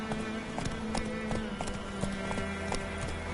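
Roach, a horse in the video game The Witcher 3: Wild Hunt, gallops in a steady, close rhythm of hoofbeats over a low tonal background.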